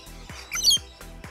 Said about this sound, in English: So the rainbow lorikeets are obviously very bold birds